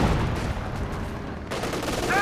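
A tank's main gun booms in a Company of Heroes 2 match amid a dense wash of gunfire and battle noise, loud and continuous.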